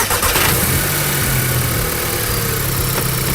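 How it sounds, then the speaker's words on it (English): A car engine cranks and catches, then settles into a loud, close, steady running drone. "and then start the engine up."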